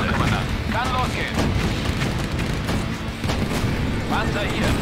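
Tank cannon fire in the World War II strategy game Blitzkrieg, set at Kharkov in May 1942: repeated heavy booms in a battle soundscape, with voiced unit responses in German over the din.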